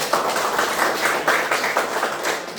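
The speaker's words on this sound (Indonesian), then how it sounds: "Tepuk tangan." Classroom children clapping their hands together in a brisk, fairly loud patter of many overlapping claps that keeps going throughout.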